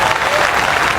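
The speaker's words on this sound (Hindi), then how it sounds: "मुझे भी एक बार तालियों से समर्थन दीजिए।" Steady applause from a poetry gathering crowd, dense and continuous clapping filling the whole moment at a strong, even level.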